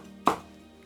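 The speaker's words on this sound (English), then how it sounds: "I'm chopping a few vegetables to make a soffritto" A single sharp knife chop lands on a cutting board while vegetables are cut for an Italian soffritto, one crisp close thunk followed by quiet kitchen room tone.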